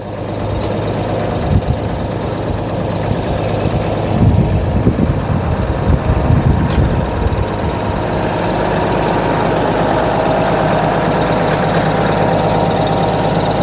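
A heavy Scout TB-904 C tractor engine rumbles steadily nearby on a farm, with a low throbbing idle that swells briefly and then settles back to a constant drone.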